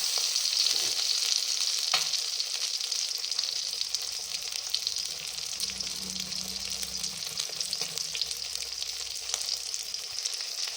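Fish frying in a pan with a bright, steady sizzle and bubbling crackle up close, a few soft clinks of handling scattered through it.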